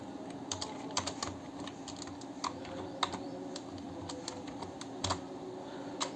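Someone types HTML code on a computer keyboard, a quiet, steady patter of individual key clicks at an uneven rhythm, heard alone in a calm room.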